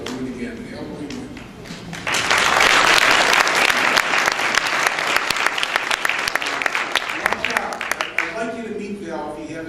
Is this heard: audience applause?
yes